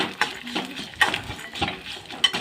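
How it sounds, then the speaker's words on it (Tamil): Ingredients fried in a pan for a bottle gourd curry, spoon scraping and stirring in short bursts with light clinks over a faint sizzle, no talking. "நல்லா வறுத்து வைக்கோங்க நல்லா வறுக்கட்டும்"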